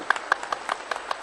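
A live stage talk show audience gives a brief, scattered round of clapping, with individual claps landing sparsely and fairly faint in a large hall.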